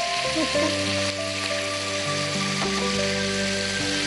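Kebab-like pieces fry in a pan in a television cooking studio, a steady bright sizzle like light rain running throughout, with a low sustained musical hum and tones layered underneath.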